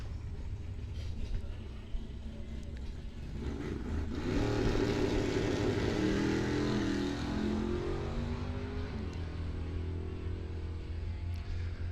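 A 1980 Chevrolet Monza bracket drag car at Coles County Dragway, its engine building from a low idle into a loud, sustained run with rising and falling harmonic sweeps as it heads down the track, with no talk.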